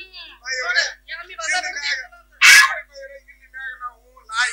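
A performer in a Kannada comedy play imitates a dog with a single sharp, loud bark-like burst in the middle, surrounded by close talk from the actors.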